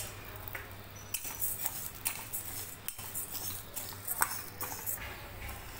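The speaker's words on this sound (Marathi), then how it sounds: "हिला आपण स्लो गॅसवर लालसर होईपर्यंत भाजून घ्यायचं आहे" Moong dal is dry-roasted in a pan over a low flame, and a spoon scrapes and clinks against the metal in quick, irregular strokes at close range and moderate volume, with no talking.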